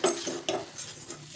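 A spoon stirring a thick moong dal and coriander mixture in a metal kadhai, producing soft scraping and a few light clinks against the pan, faint and close with a gentle rhythm.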